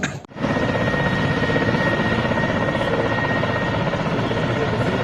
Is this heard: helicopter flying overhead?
yes